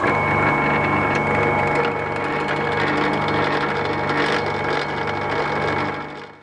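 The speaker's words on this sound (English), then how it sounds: "drill the sump plug in order for us to lock wire it later on" A drill bores through the sump plug of a race motorcycle to prepare it for lock wire, producing a steady, loud, close mechanical whine that runs unbroken for several seconds before cutting off.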